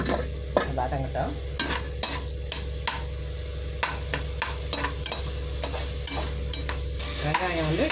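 Chopped onions fry in hot oil and a spoonful of ghee for a prawn biryani, with a steady sizzle under repeated sharp scrapes and taps of a spoon stirring the pan close by.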